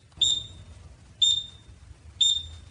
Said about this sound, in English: there's no need for that annoying beep